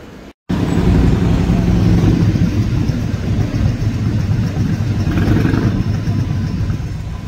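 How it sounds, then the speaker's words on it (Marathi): Engine of a tourer bus idling on a Hobart street in Tasmania, a steady low rumble held close and loud throughout, with a brief dropout near the start and faint traffic around. "आणि ही तुमची बस आहे, टुरर बस"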